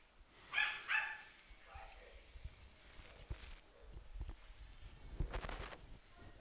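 Dogs stirred up by two eight-year-old children playing downstairs, giving a few short barks and yips at a distance, with footsteps and faint voices around them.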